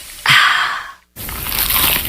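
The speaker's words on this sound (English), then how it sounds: "Is that the sound of an ooey gooey cheesy crunchy slice of P-I-Z-Z-A?" Someone bites into a crunchy, cheesy pizza slice: a close, crisp crunch, a short pause, then further rough chewing noise, with no voices.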